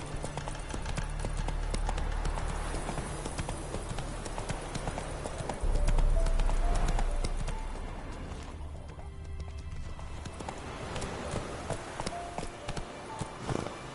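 Roach, a horse in a video game, gallops with rapid, rhythmic hoof clip-clops over ambient game sounds and swells of music, fairly close, with a brief neigh mixed in.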